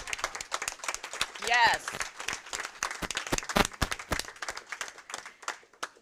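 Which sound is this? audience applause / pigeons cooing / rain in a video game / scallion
audience applause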